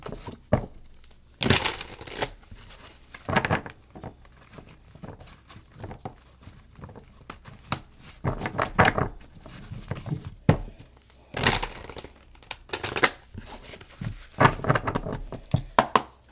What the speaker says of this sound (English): Let me get a couple of shuffles